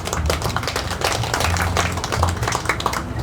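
An event audience applauds steadily, a dense patter of many hands clapping at once with no pauses, under a low hum from the room.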